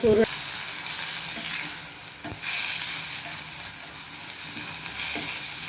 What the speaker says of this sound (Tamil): இப்போது அதே வாணலில் கொஞ்சமாக எண்ணெய் விட்டு இந்த வெந்தயக்கீரையை போட்டு நல்லா